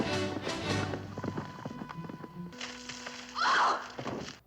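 Hooves of horses galloping in a 1969 western film scene, a rapid clip-clop rhythm under dialogue and a film score, with a loud swell of sound near the end.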